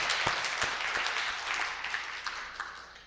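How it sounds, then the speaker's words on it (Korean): Church congregation clapping together to glorify God at an Easter Sunday service, a burst of applause with a few sharp distinct claps that gradually thins and fades out. "우리 한번 주님께 박수로 영광 돌리시겠습니다"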